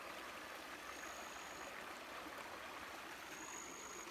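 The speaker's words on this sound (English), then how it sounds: "We've got the creek, it's come up a bit since all this rain." A creek swollen after heavy rain, a steady broadband rush of flowing water heard close and continuous, with no voices.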